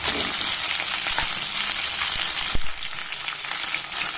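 Beans, drumsticks and other vegetables for sambar fry in hot oil with a steady, close sizzle, broken once by a sharp utensil clank partway through.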